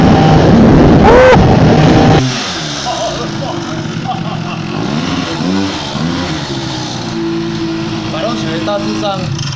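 A modified Honda Dio two-stroke scooter with a water-cooled 54 mm cylinder revs loudly with a raspy buzz for about two seconds, then settles into a steadier engine drone while people talk over it.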